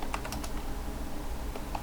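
A computer keyboard typing a ufw firewall command in a Linux Mint terminal, a quick burst of several close key clicks followed by scattered single taps, soft and clear.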